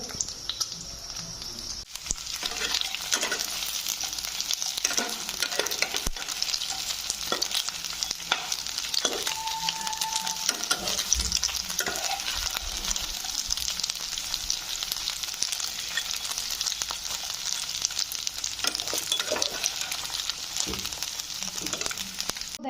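Pieces fry in oil in a pan, a continuous sizzle punctuated by occasional stirring and scraping, close and steady, with no talk.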